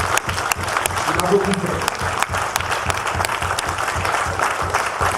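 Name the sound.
congregation applauding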